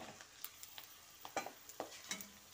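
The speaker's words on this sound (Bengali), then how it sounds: "এবার এর মধ্যে কুচনো আলুটা দিয়ে দিচ্ছি।" Chopped potatoes drop into onions frying in a pan, giving a quiet, steady sizzle with a few soft stirring scrapes and clatters, no voices.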